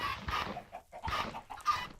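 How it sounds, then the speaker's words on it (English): Chickens in a Minecraft mod cluck in short repeated bursts, clear and close, with no talking over them. "I also forgot to feed the chickens."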